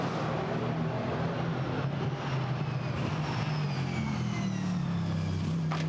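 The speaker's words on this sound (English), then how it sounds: "The Camaro then growls its way out of the Curva Grande." A Chevrolet Camaro GT4 race car at Monza growls past at high revs, a loud continuous engine roar with rising pitch throughout, no voices over it.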